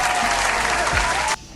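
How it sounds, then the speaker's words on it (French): A crowd gives dense, lively applause that stays close and loud, then stops abruptly after about a second and a half. "je veux des applaudissements"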